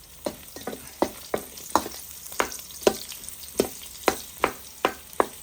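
Garlic sautéing in a pan, a close sizzle punctuated by regular sharp scrapes and taps of stirring, about a dozen strokes, with no talk.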